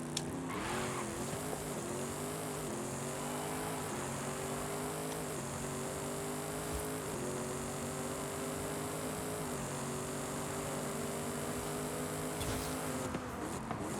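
A 2024 Ford Mustang Dark Horse on a half-mile drag run in Forza Horizon 5. The engine roars loud and steady, its pitch climbing through each gear, with repeated sharp drops at every shift and no talk.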